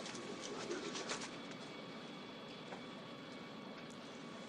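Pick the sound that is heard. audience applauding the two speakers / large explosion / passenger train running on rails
passenger train running on rails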